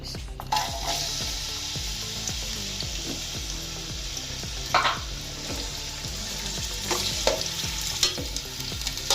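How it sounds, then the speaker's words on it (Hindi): Onions browning in oil in a pan for chicken pulao sizzle steadily, with repeated scraping stir strokes in a regular rhythm and a few louder clatters of the spoon against the pan, close and without talk. "हमारा प्याज ब्राउन हो रहा है। जैसे ये ब्राउन होगा फिर हम लहसुन अदरक का जो पेस्ट है वो इसके अंदर डालेंगे।"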